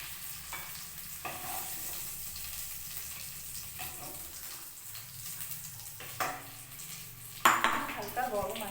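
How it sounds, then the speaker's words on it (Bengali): Potatoes for a thin chicken curry fry in a pan, a soft continuous sizzle with occasional stirring scrapes and a few sharper utensil clinks toward the end. "এটা ভেজে নেবো আলুগুলোকে"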